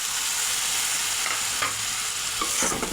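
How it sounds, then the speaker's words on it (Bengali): Spice paste of dried chilli powder and salt fries in oil for a tengra fish curry, a continuous close hiss and sizzle with occasional stirring scrapes and no talking. "এবার মশলাটাকে ভালো করে কষিয়ে নেব তেল ছাড়া পর্যন্ত"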